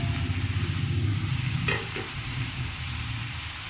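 Cut potatoes go into a hot frying pan, and steady frying sizzle and stirring noise fill the clip, with a brief bright clatter partway through; no voices.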